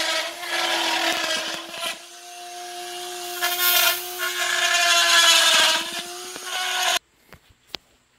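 A Dremel rotary tool cuts out the mesh opening for a Honda Talon snorkel, whining loudly and close in long passes with short pauses, then stopping abruptly and leaving a few faint clicks.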